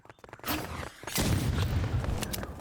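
A burst in the Roblox shooter Rivals rises sharply after a short pause, followed by a sustained rumbling roar that lingers for over a second, loud and close, with no talk over it.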